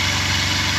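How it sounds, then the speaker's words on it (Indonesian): The engine of a Kawasaki Z250FI motorcycle runs steadily and loudly up close during throttle position sensor adjustment, a continuous pulsing idle-like drone without speech. "RPM motor terdengar naik"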